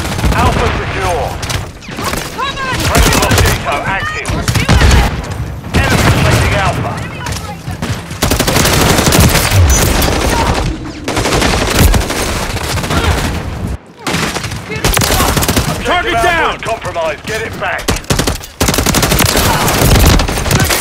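Dense first-person shooter gunfire with a machine-gun style weapon rattles in loud, rapid bursts that run almost continuously, broken by brief gaps and occasional booms, with in-game voices calling out over the shooting.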